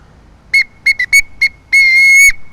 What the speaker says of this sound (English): this is like a little whistle right here by itself